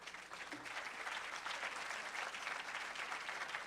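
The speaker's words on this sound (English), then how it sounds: "please join me in a round of applause to Professor Bernardino." An audience claps steadily and evenly throughout, welcoming a speaker at an academic talk on drones at CINVESTAV Guadalajara.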